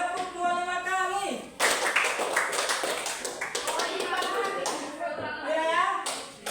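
In a classroom clapping drill, a burst of several sharp, close hand claps rings out, with chanting voices continuing around and beneath it.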